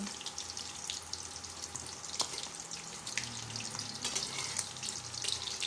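Shellfish omelette, hoi tod, fries in a pan with a steady crackling sizzle of hot oil. The sizzle runs continuously and fairly loud, with occasional sharper pops and a brief utensil scrape, and nobody speaks.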